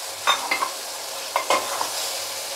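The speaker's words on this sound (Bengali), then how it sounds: "এবার ভালো করে কষিয়ে নিতে হবে ভাজা ভাজা করে নিয়ে" Chopped capsicum and tomato fry in a pan for paneer bhurji, a soft steady sizzle with a few crisp spoon scrapes in two short bursts, close and without talk.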